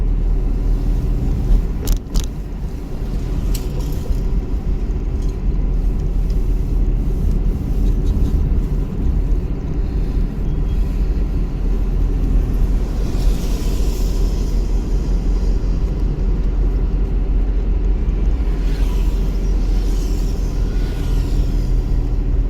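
A car engine drones steadily during a driving lesson, a continuous low hum with slight rises as the accelerator is pressed and a few faint clicks early on; no one speaks.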